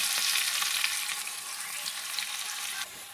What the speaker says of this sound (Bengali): একটু পেঁয়াজটা একটু লাল লাল করে ভাজা হতে থাকে।